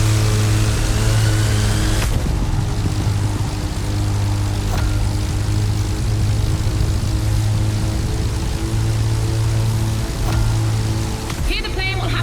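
A propeller plane flies in the racing game The Crew Motorfest, racing an AGP. Its engine holds a loud, steady drone with a constant hum throughout, and a voice talks over it.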